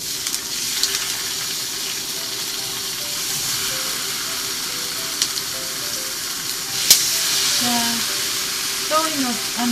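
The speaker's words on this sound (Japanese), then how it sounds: "そしてお肉を焼いていきます。" Pork loin slices for ginger pork fry in a pan at home with a steady, close hissing sizzle throughout, under occasional quiet talk.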